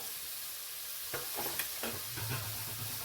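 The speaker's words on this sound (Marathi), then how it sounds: "हा बारीक चिरलेला कांदा होता ना तो आपण तेलात सगळा घालून घेतला आहे" Finely chopped onion sizzles in hot oil in a pan for paneer matar masala, a constant bright hiss near the mic, with stirring scrapes and bursts of crackle in the second half and no voices.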